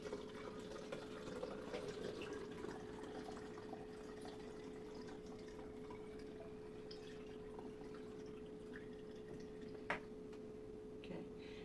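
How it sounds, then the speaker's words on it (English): Distilled water trickles and drips into a Kratky hydroponic container, a faint, continuous liquid patter with a steady background hum and one small knock near the end. "So I have some distilled water, and I know that you don't want to fill it up too full"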